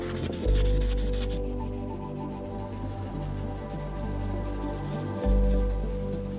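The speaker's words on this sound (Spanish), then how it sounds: "vamos a pulirla con una lija muy fina" Fine sandpaper rubbing across a heavily burnt surface on a homemade fire-powered refrigerator part, a steady close scratchy sanding with rhythmic strokes and no talk.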